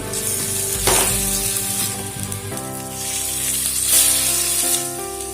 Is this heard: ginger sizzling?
yes